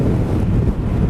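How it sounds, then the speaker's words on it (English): Strong wind buffeting a microphone on a Maui coastal road, a loud continuous low rumble that fills the whole stretch without a break. "the wind is very, very strong"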